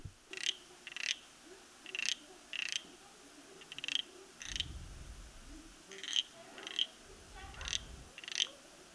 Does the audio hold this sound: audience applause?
no